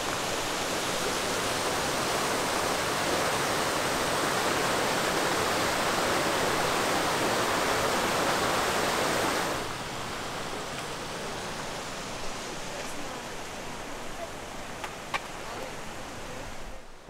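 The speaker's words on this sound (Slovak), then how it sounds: "Medvedovský potok je toto." Medvedovský creek in the Tatra mountains rushes loudly and continuously close by, then drops to a softer, more distant babble about halfway through, with a few faint clicks.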